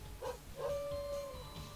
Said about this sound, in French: Alors il aboie et il hurle.